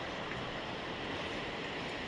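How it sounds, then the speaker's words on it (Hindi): The Pindar River at Narayan Bagar in Chamoli, Uttarakhand, gives off a constant broadband rush of flowing water, even and unbroken, with no voices. "ये खूबसूरत सी पिंडर नदी है ये।"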